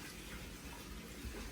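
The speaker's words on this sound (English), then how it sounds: "flow and return pipes underneath the boiler, and that's just flushing through" Water flushes through the flow and return pipes under a newly installed boiler, a faint, steady rushing gush with no talking.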